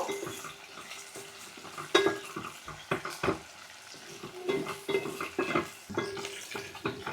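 Onions and green chillies frying in a pan for a tamarind leaf curry, a low sizzle punctuated by frequent spoon scrapes and clanks against the pan as they are stirred.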